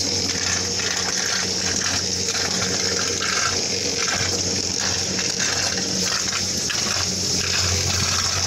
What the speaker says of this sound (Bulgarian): Много мощно тече, някъде и зад камъните шумоли водопад.